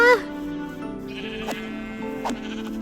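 A sheep in the Minecraft video game lets out a short, clear bleat at the very start, followed by a steady background drone and a couple of faint clicks.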